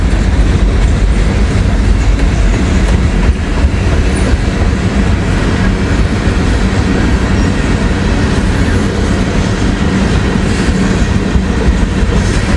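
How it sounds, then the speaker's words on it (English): A long freight train of old Amtrak boxcars rolls past close by, a loud, continuous rumble with steady clickety-clack of wheels over rail joints throughout. "Old Amtrak boxcars."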